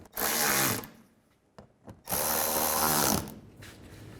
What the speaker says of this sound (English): Now I'll just go around and tighten them all down.